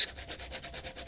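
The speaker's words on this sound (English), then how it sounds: "let me grab a bit of sandpaper" Sandpaper rubs by hand across wood on a scrap-built wood chipper project, a close, rhythmic series of about eight rasping back-and-forth strokes with brief dips between them, no voices.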